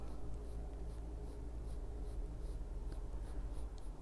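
Pencil shading lines on paper while drawing a Disney Dreams Collection picture from a Thomas Kinkade studios coloring book: a steady, close scratchy graphite rasp with continuous back-and-forth strokes and no pauses.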